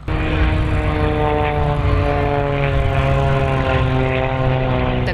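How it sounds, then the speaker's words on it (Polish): Aerobatic propeller plane performing at the Mielec air show in Poland, a loud sustained engine roar with clear rising and falling harmonic tones as it maneuvers overhead, no voices. "właśnie prezentował się na mieleckim niebie mistrz Polski w akrobacji samolotowej Artur Kielak"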